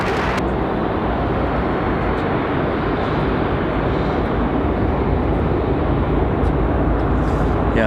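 Southwest airliner jet engines spool up at an airport, a steady broadband roar filling the whole stretch, loud and constant with no voices.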